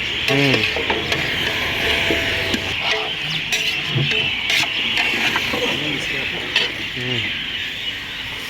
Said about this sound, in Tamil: கத்திரிக்காய் தொக்கு பண்ணிட்டு இருக்கிறேன்